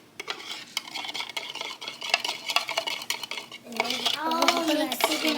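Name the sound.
stirring Chex Mix in a bowl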